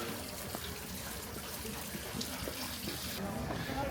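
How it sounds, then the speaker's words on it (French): Water runs from a dragon fountain in Tokyo as a steady, fairly quiet stream of splashing and trickling, with faint background murmur throughout. "il y a une fontaine avec un dragon"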